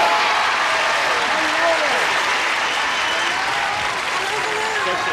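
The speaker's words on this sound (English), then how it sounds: "Would you all join us now with a big round of applause as we say, hello, stars!" A studio audience breaks into a big round of applause and keeps it up, dense steady clapping with some cheering at a fairly loud, even level throughout.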